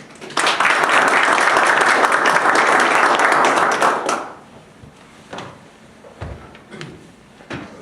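Audience at a lecture on the Institute of National Remembrance bursts into dense, loud applause for the incoming speaker for about four seconds, then it fades to scattered claps and small knocks from the room.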